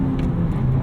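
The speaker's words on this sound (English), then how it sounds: "There's that rev hang." Engine of a 2017 Honda Civic Si holding its revs after a shift, a close, steady rumbling drone with a slowly falling pitch.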